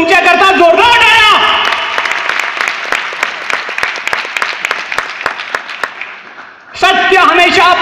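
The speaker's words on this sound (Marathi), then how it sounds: "तुमच्या करता जोरदार टाळ्या." An audience in Pune claps loudly and continuously at a stage event, with dense rapid clapping between stretches of a man's amplified speech at the start and end.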